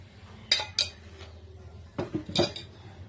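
A spoon clinks sharply against a cup as a breakfast drink is stirred into milk, two quick taps near the start and a short cluster of clinks later, close and crisp over a quiet room with no talking.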